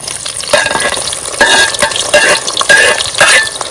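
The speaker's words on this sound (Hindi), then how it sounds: "अभी प्याज डालेंगे गरम घी में।" Onions sizzle in hot ghee while a utensil stirs and scrapes the pan, with clinking strokes repeating every second or so, close and fairly loud.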